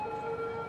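Ambulance sirens in the city-building game Cities: Skylines, a steady two-tone wail held throughout a brief moment, clear and alone without talk.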